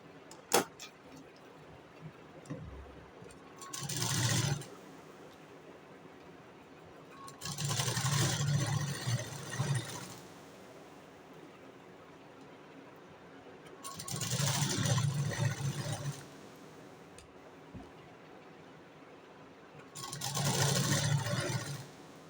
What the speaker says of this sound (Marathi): आता कमरेकडच्या साईडला आपण शिलाई मारून घेऊया.